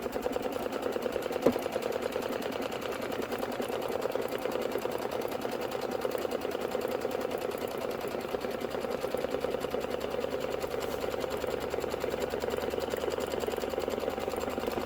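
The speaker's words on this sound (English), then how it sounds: "I'm just going to hit start, is you are going to stitch the batting placement line directly on the stabilizer" An embroidery machine stitches a batting placement line onto stabilizer for a chenille watermelon hot pad, a steady, even mechanical whir with rapid needle ticking that runs unbroken and close throughout.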